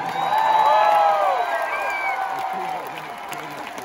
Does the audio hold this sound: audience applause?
yes